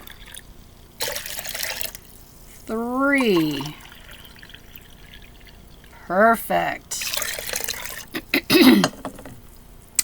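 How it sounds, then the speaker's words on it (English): Cups of hot water are poured into a bowl of dry playdough ingredients in a few short splashing bursts, close by, while someone talks and counts in between. "So we are going to need 3 cups of hot water."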